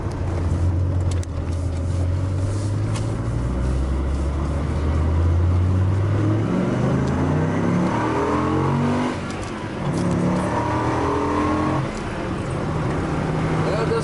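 A 2001 Dodge Viper RT/10 engine revs and pulls hard through rising gears, a loud continuous roar with shifting pitch and road noise throughout.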